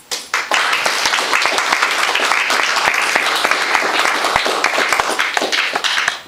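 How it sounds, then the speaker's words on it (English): Sustained audience applause at a speaking event in Surrey, BC, Canada, dense rapid clapping from many hands running steadily for several seconds, fairly loud and close, with no voices over it. "And I think he deserves a clap for that."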